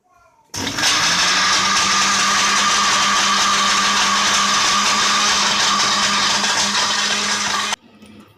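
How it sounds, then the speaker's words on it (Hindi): A kitchen blender grinds mango with milk for a mango custard sharbat, a loud steady whir that starts abruptly, runs evenly for about seven seconds and cuts off. "आम डालेंगे और ग्राइंड कर लेंगे। थोड़ा दूध डालेंगे इसमें।"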